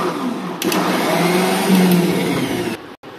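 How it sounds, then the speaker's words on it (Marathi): A mixer grinder whirs loudly and steadily for a few seconds grinding raw mango with lentils, salt and sugar, its motor pitch shifting slightly before it cuts off. "आणि मिक्सरला फिरवून घ्यायचं।"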